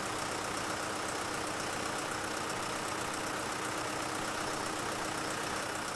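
Tractor engine pulling a cultivator in Farming Simulator 15, a steady, unbroken mid-pitched drone with a faint rapid knock, loud and constant throughout with no talking.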